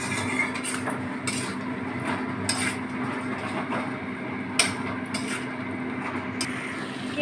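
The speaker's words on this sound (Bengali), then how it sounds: "এবার এটাকে আমি ভালো করে কষাবো।" Spatula scrapes and clacks in a pan of frying spiced potatoes with red chilli powder and salt for a Bengali masala aloo bhaja, in sporadic sharp taps over a steady low kitchen hum.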